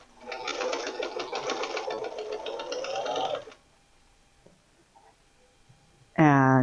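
A sewing machine joins quilt block pieces in one close, steady run of rapid stitching lasting a few seconds, followed by near silence and then a voice starting to speak.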